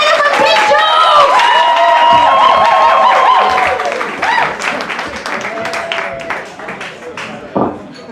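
Audience at a stand-up comedy night in a London pub clapping and cheering together, loud and dense at first, then thinning into scattered claps and a few shouts.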